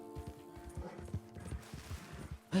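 Horse hooves clip-clop in a steady rhythm while a pony is ridden in Red Dead Redemption 2, close and moderately loud, with a louder thump near the end.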